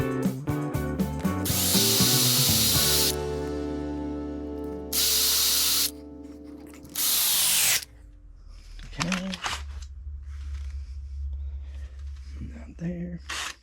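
A power drill with a 5/16 bit bores the mouth into a small woodturned wooden ghost, in several short, loud whirring bursts separated by pauses and ringing tones.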